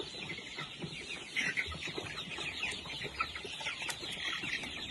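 Heritage chickens in a coop cluck and murmur steadily at moderate distance, a busy low flock chatter with occasional louder calls, no talking.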